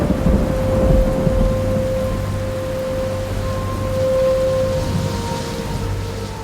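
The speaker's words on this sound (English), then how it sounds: "The rain you so dearly loved." Steady rain with a low thunder rumble underneath, an even wash of falling drops at moderate loudness, with faint tonal hums in the background and no voices.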